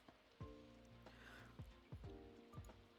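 Steady rain hiss with soft patter, overlaid by a few repeated game-like chime tones and low thumps, fairly quiet throughout.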